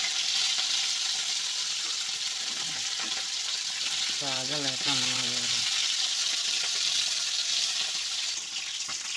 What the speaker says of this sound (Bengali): আগে কড়া কড়া করে ভেজে নিতে হবে